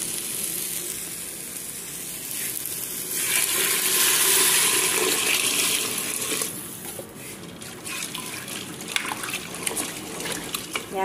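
Water runs and splashes steadily into a pot for bean broth in a home kitchen, swelling loudest midway and then easing, with faint clinks near the end and no talk.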